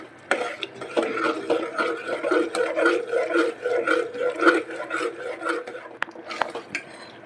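A spoon repeatedly scrapes and stirs a Mumbai-style pav bhaji mixture seasoned with salt and sugar in a pan, making a rhythmic, close rasping sound with occasional sharp clinks against the metal.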